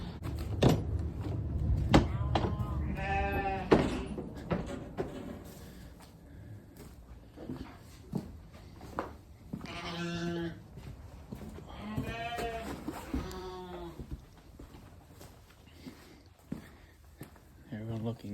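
Sheep bleat inside a barn with an adjoining pasture, several loud, drawn-out calls coming close by amid shuffling and footsteps, while people talk throughout.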